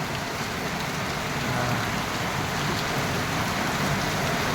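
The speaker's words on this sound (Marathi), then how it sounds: "खूप पाऊस आहे" Heavy rain pours steadily, a dense continuous roar of drops hitting surfaces, with no break and no voices.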